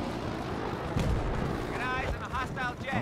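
Gunfire and heavy blasts from a Battlefield 4 Gulf of Oman conquest match, dense rumbling booms running throughout under a voice talking.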